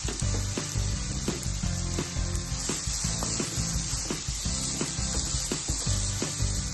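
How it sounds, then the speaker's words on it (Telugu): Grated carrot and fresh grated coconut sizzle steadily in ghee in a kadai for carrot rava laddu, with a close, continuous frying crackle punctuated by regular scraping strokes of a spatula. "ఇంకొంచెం నెయ్యి వేసేసుకొని క్యారెట్ తురుము, పచ్చి కొబ్బరి తురుము వేయించేసుకోవాలి."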